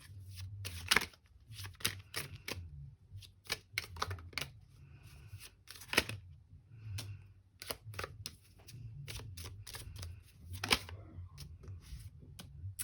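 Tarot cards are shuffled and drawn from a deck in soft, quick clusters of crisp slaps and flicks with short pauses between them. The sound is close and quiet, and no talk is heard.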